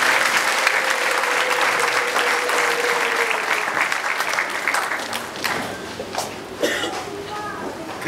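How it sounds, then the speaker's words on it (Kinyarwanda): Sustained applause from a church congregation, thick and steady before thinning toward the end, with a voice heard briefly amid the clapping. "Mumuhe amashyi menshi."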